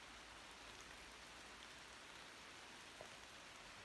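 Steady rain pours onto fir tree branches on the Malvern Hills, a dense, even hiss that fills the whole clip with no voices.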